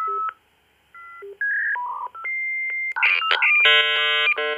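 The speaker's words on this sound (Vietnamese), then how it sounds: "kết nối internet qua modem dial up tức là cái tiếng di di di, vang dội ra" A dial-up modem connecting to the internet: a run of touch-tone dialing beeps, then denser overlapping handshake tones that grow louder and busier. The sound is close and clear, with no voices.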